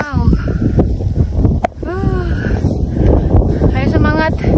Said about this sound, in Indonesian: Anginnya kenceng banget. Tiba-tiba kencang kayak gini.